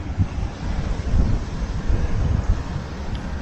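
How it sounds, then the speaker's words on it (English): Strong wind roars and buffets steadily against the microphone at an RV, a heavy rumbling gust with no voices. "it's windy enough to rock the van"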